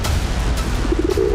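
A pigeon coos in a remote, deserted spot above 12,000 feet near Amarnath, making a short run of soft, low, rounded notes late in the clip over a steady rumbling background.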